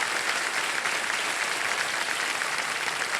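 A studio audience at a TV quiz show claps in a dense, even burst of applause that stays loud and steady throughout, with no pauses and no clear voices.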